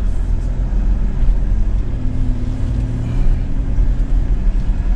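A car driving off-road, its engine and tyres a steady, loud low rumble heard from inside the cabin, with no voices.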